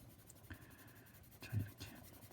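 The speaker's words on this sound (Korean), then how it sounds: "새까맣게 머리를 칠해 주시면 되겠죠" Faint, scratchy pencil strokes fill in a drawn face's hair solid black, with short rubbing bursts across a quiet background.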